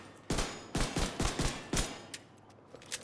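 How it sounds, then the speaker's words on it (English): Gunfire aimed at enemies in The Division 2 with a Striker weapon: a short, rapid burst of about five or six loud shots, then fainter scattered pops as it fades, with no talking. "just shoot the enemies one time"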